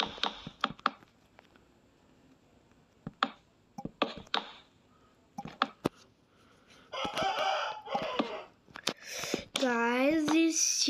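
Chickens in a building video game: sparse clucks and clicks at first, then a denser burst of squawks and a rising, wavering rooster crow near the end, close and clear, with someone talking at points.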